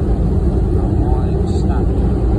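Broad, roaring cabin rumble from inside a Southwest Airlines Boeing 737 landing at Hartford Bradley International Airport, loud and continuous with dense low engine and wind noise and a faint voice beneath.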